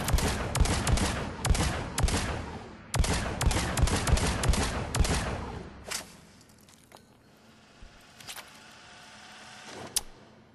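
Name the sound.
Phalanx pistol gunfire from the hip in video game Mass Effect 3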